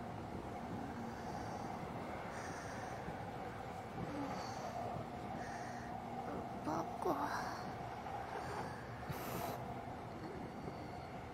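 A local stopping commuter train on a Japanese line runs with a steady rumbling roll, and wheel squeals and clatter rise briefly midway while an onboard announcement voice speaks over the noise.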